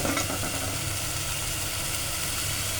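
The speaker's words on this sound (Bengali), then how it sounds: "এখন মশলাটা কষাচ্ছি, ভালো করে" Spice masala stir-fries in a pan with a steady, even sizzle that runs unbroken and fairly close.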